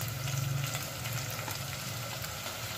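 Chopped onions frying in half a cup of hot oil in a pot, a steady, close sizzle and crackle that holds evenly throughout, with no talking.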